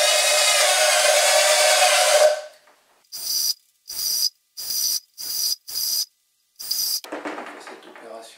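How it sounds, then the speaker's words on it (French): A drill bores roughly 1 cm holes, one after another, around the rim of a metal box for a homemade pyrolysis stove. A loud burst of drilling comes first, followed by several short, evenly spaced bursts with brief pauses between them. "Vous percez les trous tout le tour de la boîte."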